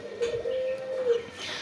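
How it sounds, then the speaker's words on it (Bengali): A pet dove's soft, steady coo sustains close by, a low hollow tone with a faint bird chirp and light background noise. "এই যে ঘুঘুটা কিন্তু ঘুঘুর ডাক শুনছেন"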